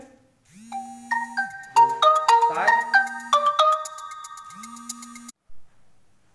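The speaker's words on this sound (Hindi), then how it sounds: "थोड़ा सा फोन का डिस्टरबेंस हो गया था" A mobile phone ringtone plays a bright electronic melody of bouncing tones, loud and close, preceded and followed by a low buzzing vibration, with a brief spoken word in between.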